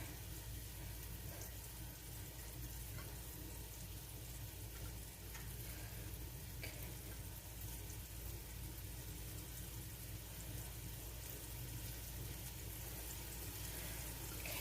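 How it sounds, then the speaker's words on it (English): Breakfast food frying in a pan for biscuit lasagna, giving a steady, close sizzle with crackling bursts that runs unbroken and without talk. "hearing the sizzling going on over here to my left"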